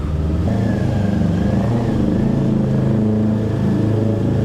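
A Kawasaki Ninja 400 motorcycle, 2023 model, engine running steadily and fairly close, a sustained mid-pitched drone with slight rises in revs throughout, no one speaking over it.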